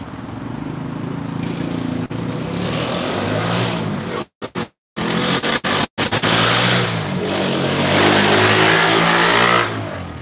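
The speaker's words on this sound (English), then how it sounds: "It's that same motorcycle we passed" A passing motorcycle engine roars and revs up close, dropping out briefly in the middle before surging again and fading at the end.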